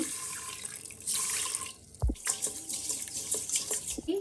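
Rice being rinsed in water for a vegetable bath dish, with running tap water splashing and swishing near the mic over several seconds, and brief knocks and sloshes of grains and water in a vessel.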